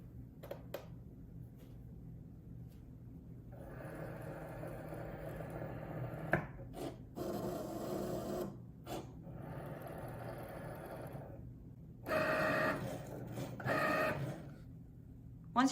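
A Cricut cutting machine cuts a design for a faux stained-glass frame, giving a steady mechanical whir and buzz in bursts of carriage movement, with brief pauses and louder passes near the end, close and without talk.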